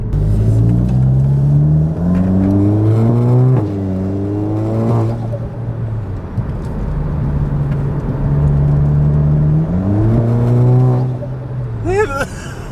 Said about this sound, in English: the noise from the turbocharger is way more intense than the last time we drove it